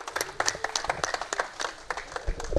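An audience at a Congolese gathering applauds as a deputy director general is invited forward; the clapping is moderate and somewhat scattered, with individual claps standing out.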